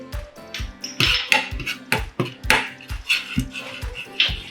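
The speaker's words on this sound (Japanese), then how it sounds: "ゆっくりと炒めていきましょう。" Doubanjiang being stir-fried slowly in a pan over low heat, with a utensil knocking and scraping against the metal in a steady, repeated rhythm of sharp clanks.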